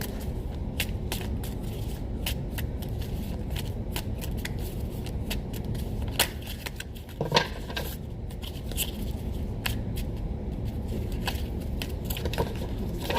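A deck of cards is shuffled for a card pull. Close, rapid flicking and riffling clicks continue throughout, with a few cards slipping out.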